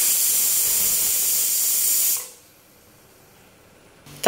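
A pressure cooker valve, used to boil beef skin, releases a loud, steady close hiss of steam for about two seconds, then cuts off abruptly, leaving near silence before a brief clatter at the end.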